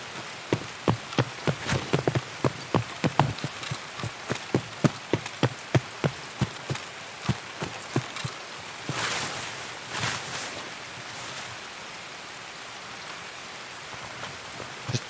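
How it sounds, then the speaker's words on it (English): Rain patters steadily in the Escape from Tarkov game world, a dense hiss over regular sharp footstep-like impacts for the first half, then thinning to a softer wash. "Well, the rain stopped?"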